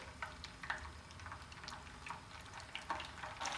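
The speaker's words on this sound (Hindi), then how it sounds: "पनीर को हमने शैलो फ्राई करना है।" Paneer cubes shallow frying in hot oil over a medium flame, giving a steady close sizzle and crackle with brief brighter spatters and bursts throughout, no voices.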